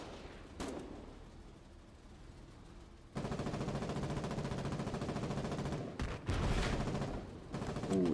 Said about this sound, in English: That was a rocket hit.